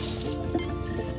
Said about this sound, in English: and then squeeze out all the extra water.